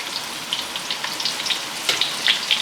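Tofu pieces fry in hot oil, giving a steady close sizzle with scattered crisp pops and crackles throughout.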